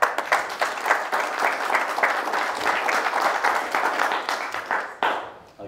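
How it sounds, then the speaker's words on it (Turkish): Guests at Aydın and Yeşim's wedding ceremony break into sustained applause right after the vows, a dense, close wash of many hands clapping for about five seconds before it trails off and fades. "Alkış."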